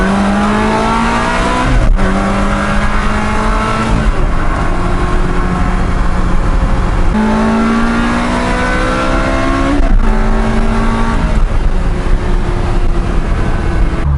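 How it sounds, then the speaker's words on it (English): Inside a Ford Focus RS cruising at about 79 with the convertible hood down, a loud, steady roar of wind and road noise fills the cabin while engine tones rise and drop through repeated gear changes. "we're going to do an internal noise test with the hood down"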